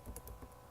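A few quiet keystrokes on a computer keyboard in a short burst, faint against low background hum.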